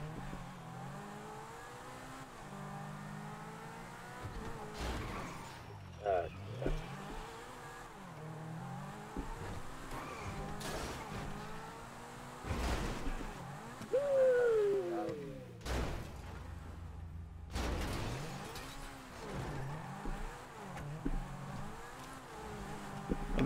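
Cars in the video game GTA drive around and rev their engines, a steady mid-level engine drone with repeated surges and revving bursts, occasional tire squeal and sharp bangs over about twenty seconds, with no talk.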